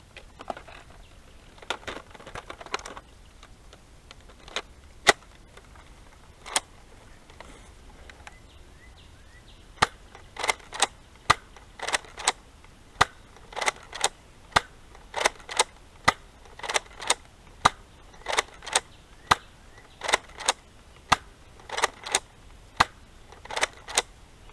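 A Nerf blaster firing Endstrike elite darts makes a series of sharp, dry snaps, sparse at first and then in a steady rapid rhythm, close and fairly loud over a quiet room.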